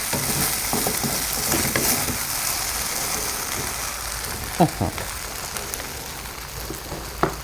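Rice vermicelli noodles and marinated pork stir-fry in a pan with a steady, rain-like sizzle. A few scraping clanks of the spatula break in now and then.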